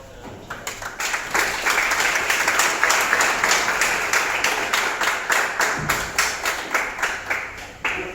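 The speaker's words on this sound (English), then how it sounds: "please hear a round of applause for the chair" Audience applause for the chair at the opening of a Model ASEAN summit meeting: sustained, fairly loud clapping from a room full of people that thins out toward the end into scattered individual claps.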